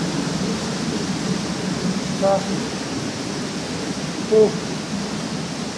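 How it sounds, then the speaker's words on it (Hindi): A waterfall inside Robber's Cave in Dehradun gives a constant, even roar of rushing water close by. A voice speaks briefly once or twice over it. "और ये झरना आ रहा है आगे से।"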